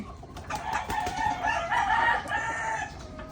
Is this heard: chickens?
yes